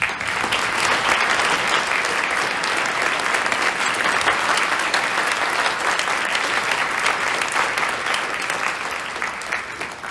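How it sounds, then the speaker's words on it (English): Sustained applause from a seated audience at an alumni awards ceremony, a dense, even wash of many hands clapping for about ten seconds without a break. "Let's give them all a round of applause."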